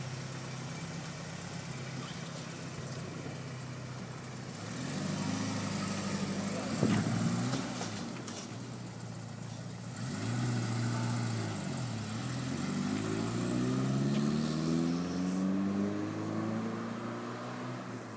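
A 1989 Porsche 944 Turbo idling steadily nearby, a low rumbling engine note with a few gentle revs that rise and fall in the middle and near the end.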